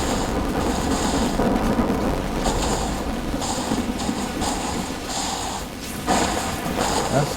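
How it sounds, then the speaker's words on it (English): A thunderstorm in the video game Death Stranding: continuous rumbling thunder and rain-like hiss roll on for several seconds, with a few louder swells and no talk. "That storm is looking pretty terrifying over there."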